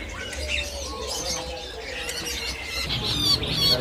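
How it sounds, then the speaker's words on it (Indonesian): A caged male pentet kembang shrike for sale at a bird kiosk gives sharp squawks and chirps amid busy market background noise, with other birds calling around it. "ada juga stok burung pentet kembang"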